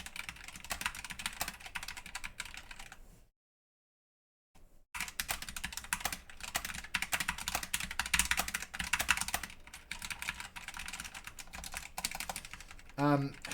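Keys clatter on a mechanical keyboard, including a noisy spacebar, in rapid close-up typing bursts with a brief silent gap partway through.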